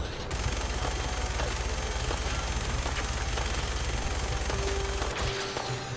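Minigun fire in Fallout 4: a continuous, loud, rapid stream of shots that holds steady for about five seconds, then cuts off abruptly near the end.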